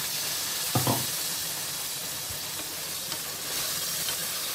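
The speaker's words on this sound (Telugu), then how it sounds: "ఇప్పుడు ఈ మసాలా అంతా కూడా పచ్చి వాసన పోయేంత వరకు మనము ఫ్రై చేసేసుకోవాలి" Ground masala for stuffed brinjal curry fries in a pan with a steady, soft sizzle and hiss, plus a couple of light spoon scrapes, close by with no talking.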